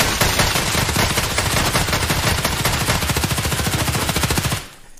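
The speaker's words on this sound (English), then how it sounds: "Shoot the windows around him, Warren. Don't shoot him. Shoot the windows." Sustained rapid automatic gunfire in Escape From Tarkov, aimed at the windows around a player, a loud continuous burst of closely spaced shots for nearly five seconds before cutting off into quiet.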